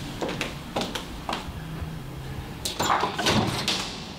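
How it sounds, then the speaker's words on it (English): A door is opened to a visitor inside a home, with several knocks and clunks of handling and a louder rattle and thump near the end, close by with no talk. "someone's at the door. I'll get it."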